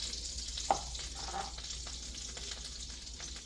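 Butter sizzling gently in a pan on low heat, a quiet even frying hiss with a faint clink near the start and no voices.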